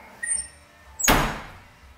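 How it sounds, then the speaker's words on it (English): A trunk lid on a 1979 Pontiac Trans Am 10th Anniversary with 10,575 original miles gives a short squeak, then a louder broadband thump as the lid moves and shuts, close by with no talk. "It's got the nice squeak in the trunk,"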